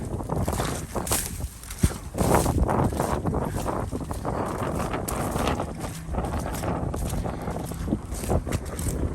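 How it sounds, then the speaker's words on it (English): Strong wind buffets the microphone outdoors at a water line site, a loud continuous rumbling roar with gusty surges throughout and no clear talk. "I don't know if you can hear me with the wind"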